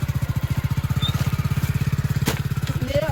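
A motorcycle engine runs close by with a fast, steady pulsing putter that holds an even rhythm throughout, with a brief sharp knock near the end and no clear talk.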